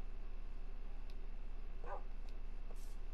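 A tamed wolf in Minecraft gives a few short, faint barks and yips, spaced apart over a constant low game hum with no talking.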